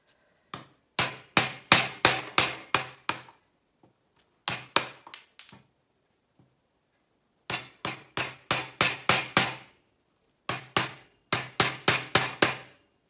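A mallet drives a chisel into a wooden plant pot stand base. Sharp, close knocks come in quick bursts of five to seven blows, separated by short pauses, with no talking.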